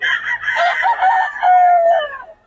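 Roosters from Batangas crowing loudly and close, one long drawn-out cock-a-doodle-doo filling the moment, with no one talking.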